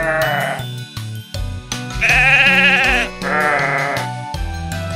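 Cartoon sheep bleat loudly in a toy story scene at a fair, several drawn-out wavering bleats alongside busy background music and sound effects, with no talking.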